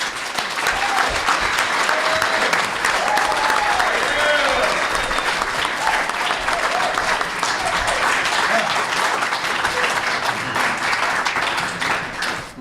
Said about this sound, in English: invite you now to join me in a round of applause for our candidates